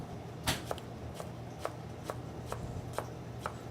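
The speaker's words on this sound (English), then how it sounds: "We cut to small cubes," Knife chopping a seeded vegetable into small cubes in a restaurant kitchen, about eight sharp, evenly spaced cuts against a board, close and clear over a faint low background hum.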